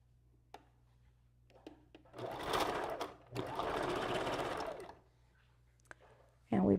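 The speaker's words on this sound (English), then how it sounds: "we're going to do our back stitching" Sewing machine back stitching on a wig, two rapid mechanical runs of about a second each in a quiet room, with faint handling clicks before and after.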